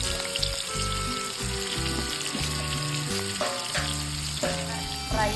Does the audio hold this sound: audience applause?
no